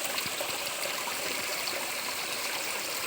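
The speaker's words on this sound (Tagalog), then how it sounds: "Nasa sapa po kami." A creek runs in a continuous, even rush and trickle of water beside a poured concrete structure, steady throughout with no voices.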